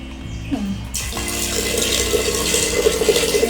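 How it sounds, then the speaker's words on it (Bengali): Water is poured into a large pot of soaking chickpeas for ghugni, a steady splashing pour close by, with no talk over it. "জলটুকু আমি দিয়ে দিলাম"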